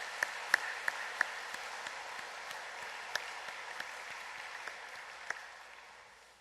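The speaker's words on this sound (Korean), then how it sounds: "우리를 낳아주시고 길러주신 은혜에 감사하는 마음으로 박수를 올려드리겠습니다." A church congregation applauds quietly in gratitude to parents on Parents' Sunday: a soft, distant patter of clapping with a few sharper individual claps standing out, fading toward the end.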